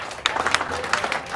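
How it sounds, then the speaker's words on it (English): A brief burst of audience applause for helpers raising funds for the KTEK radio station, scattered claps over crowd noise at a live story slam event. "if we can get a round of applause for all of them."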